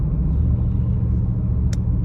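A car rumbles steadily over a rough road, a loud low drone with cabin noise and a single sharp knock near the end as it bounces.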